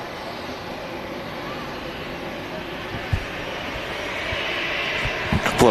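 An Airbus A330 airliner taxis past at Manchester Airport, giving a steady distant jet engine drone with broadband rumble, with a few small knocks near the mic.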